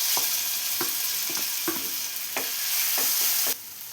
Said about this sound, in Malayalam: ഇനി ഇതേ ഗീയിൽ തന്നെ ഒരു നേന്ത്രപ്പഴം കട്ട് ചെയ്ത് വെച്ചത് ചേർത്ത് കൊടുക്കാം.